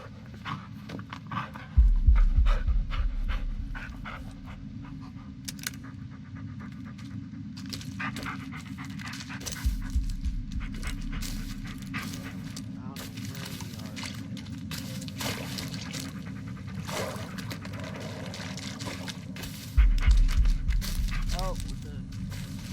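A dog pants in the Blair Witch video game, with rhythmic breathy bursts close by that come and go in several spells over a steady low ambient hum, plus occasional faint clicks and rustles.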